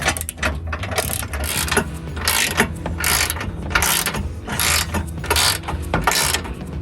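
A nut on a Jeep JL front sway bar link being tightened by hand with a ratchet: steady repeated clicking of the pawl in quick strokes, loud and close, continuing throughout.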